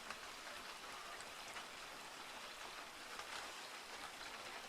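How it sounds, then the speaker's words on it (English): Steady rain falls on a woodland campsite beside a log cabin, a dense, even hiss of drops pattering on surfaces that stays constant throughout, close and moderately loud, with no voices. "the rain's back on"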